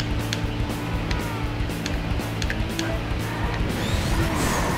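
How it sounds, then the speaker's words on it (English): Crashes and smashes in the racing video game Burnout 2: Point of Impact on GameCube, a steady engine roar broken by several sharp metallic impacts and scraping, with a louder crunching pile-up near the end. "Oh my god, we just crashed again."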